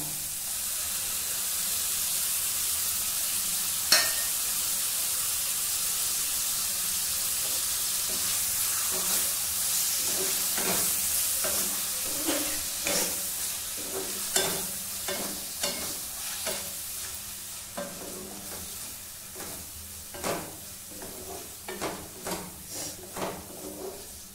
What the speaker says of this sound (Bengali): এবার দেব এর মধ্যে ধুয়ে রাখা মাছের তেলটা।